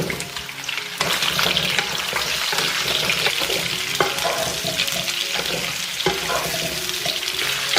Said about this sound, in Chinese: 然后把蒜放进来翻炒